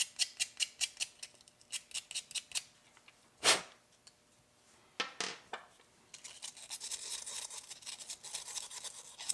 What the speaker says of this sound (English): I'm just going to take some sandpaper and rough up the bolt head and the inside of this plate.